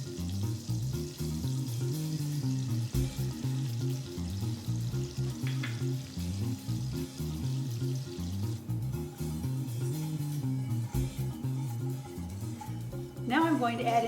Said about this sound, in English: Now I'm going to add in the garlic and the seasonings.